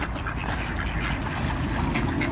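Ducks quacking in a park, dense overlapping quacks from a nearby flock over steady outdoor noise, loud and continuous.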